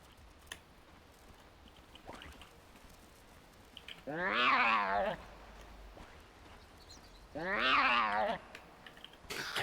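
A meow voice line from the video game Dota 2 sounds twice, loud drawn-out cat-like wails about four seconds apart, over quiet game ambience and faint clicks.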